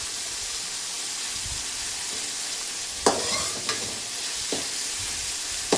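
Chopped banana stem frying and being stirred in a pan, with a steady sizzle and a few sharp scrapes of the spoon on the pan, close and fairly loud, without talk.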